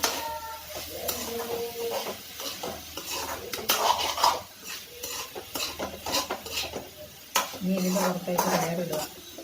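A Kerala-style banana flower stir fry is stirred in a pan, with busy clattering of a metal spoon against the vessel over a light sizzle, close and uneven in rhythm.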